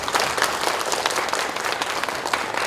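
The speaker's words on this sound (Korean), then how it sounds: "여러분 큰 박수 부탁드립니다" Audience applause at an academic conference on the Donghak Peasant Revolution in Gwangju after a keynote talk, a dense, sustained wash of many hands clapping at once, fairly loud and even throughout.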